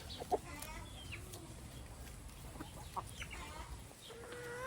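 Chickens and young chicks from home-hatched eggs cluck and peep in a backyard coop, with scattered short calls and one sharper call near the start over a steady low rumble of outdoor background noise.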